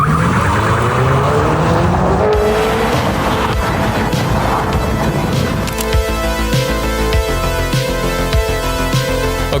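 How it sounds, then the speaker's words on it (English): A Hyundai Ioniq 5 N on track plays its simulated engine sound, a loud rising tone that breaks into stepped, gear-shift-like pulses, with tyre squeal and a rushing car close by. "because it does make that simulated car sound"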